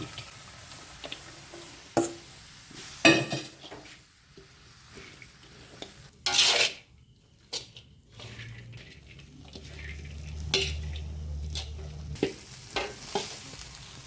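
Chopped kottu roti stirred in a hot pan produces bursts of scraping, clattering utensil strokes over low frying sizzle, with quiet gaps between the scrapes.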